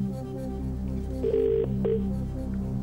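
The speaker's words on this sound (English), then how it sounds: "Right, phone Paul" A telephone dials out on a television quiz show to phone a friend, with a few short electronic tones over a low musical bed, no talk.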